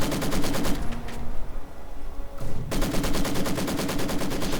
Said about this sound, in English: One of our machine guns has been silenced